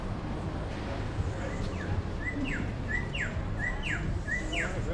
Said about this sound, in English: No, but I hear that bird.